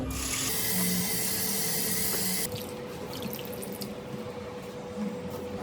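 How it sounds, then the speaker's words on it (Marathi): Fresh fenugreek leaves rinsed under a running kitchen tap: a loud, close rush of water for the first couple of seconds, then a softer splashing and dripping as the leaves are swished about, with no voices. "आधी आपण मेथीला धुवून घेऊ मस्त"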